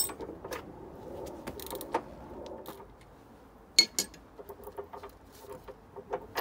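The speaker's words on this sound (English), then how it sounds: "Now we're going to go to the ratchet." Metallic clicks and short clinks of a ratchet wrench working on corroded car front suspension bolts, a soft rattly patter early on, then a run of sharp, close, irregular ticks in the second half, with no voices.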